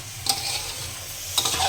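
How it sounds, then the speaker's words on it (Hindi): Masala of turmeric, coriander and tomato roasting in a pan for a potato and radish-leaf curry, a steady close sizzle with brief stirring scrapes near the start and end, no voices. "हल्दी धनिया और टमाटर इसमें डाल के इसको हम भुनेंगे।"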